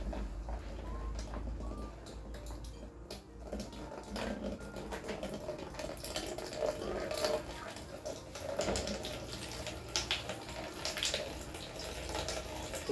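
Water streams out of a squeezed Sawyer Squeeze portable water filter, a steady fairly strong flow heard close up as continuous splashing and trickling with no talk.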